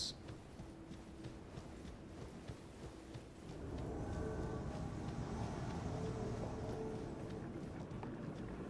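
Horse hooves clip-clop in the video game Elden Ring as a rapid, steady galloping rhythm that grows busier partway through, heard faintly and at a distance.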